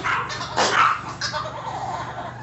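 A dog barks a few times at close range over a steady background hum, the loudest bark early, followed by fainter yips.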